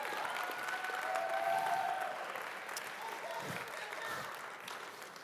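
An indoor audience claps for volunteers, a sustained dense round of applause that stays fairly even and slowly tapers, with a voice faintly audible beneath.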